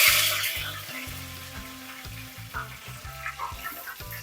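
Cumin seeds and curry leaves sizzle in hot oil in a pan for a Kerala drumstick curry, a close, crackling fry with irregular stirring scrapes and no speech.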